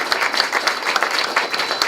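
An audience applauds a team at a 2013 assisted living quality award event, dense, steady clapping from many hands filling the space at moderate loudness.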